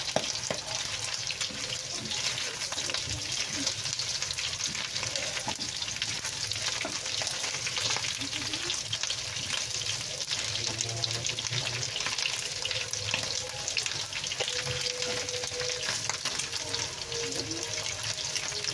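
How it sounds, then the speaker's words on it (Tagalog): White adobo frying lightly in a pan gives a continuous soft sizzle and crackle, steady and moderately close, with faint scraping of a utensil now and then. "Yung adobo sa puti, ipapry natin ng bahagya."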